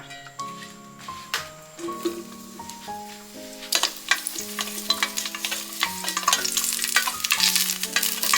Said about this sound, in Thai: เดี๋ยวเราจะเจียวเห็ดหอมเขาให้หอมก่อนนะ